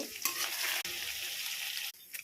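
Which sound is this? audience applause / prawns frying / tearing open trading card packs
prawns frying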